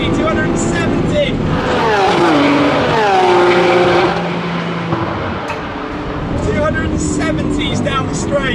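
A Lamborghini Aventador SVJ in Corsa mode pulls hard at full throttle on a straight, its engine note rising steeply to about 8,700 rpm before a sharp upshift drops the pitch, then climbing again. The sound is loud and close, with a voice talking over it.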